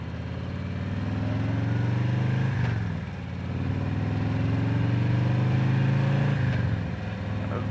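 A Harley-Davidson Milwaukee 8 motorcycle rides steadily, its close, loud engine climbing through two rising acceleration pulls broken by a brief gear change dip, with no talk.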